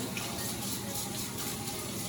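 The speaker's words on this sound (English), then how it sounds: "I'll rinse my face with some warm water" Warm tap water running steadily into a sink for rinsing a face, a continuous close rushing splash with no breaks and no talk.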